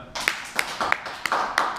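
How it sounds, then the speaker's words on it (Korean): Several sharp hand claps, about six spaced roughly evenly over under two seconds, land close and moderately loud as a single clapping rhythm at a gymnastics or martial arts class practicing a backward roll. "박수 한 번 쳐주세요."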